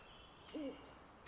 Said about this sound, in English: there's another owl